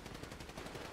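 Rapid gunfire from a bank robbery shootout in GTA 5 roleplay, a dense burst of repeated shots filling the whole moment, steady and fairly loud with no talk.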